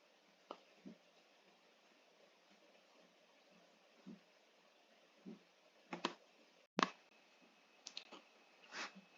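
A computer mouse clicks a handful of times in a quiet room, sharp, close and irregular, with a cluster of clicks near the end after fainter taps earlier.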